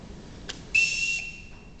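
A short tweet followed by a sustained high whistle blast used as a signal to call children, clear and fairly close in a quiet room, lasting about half a second.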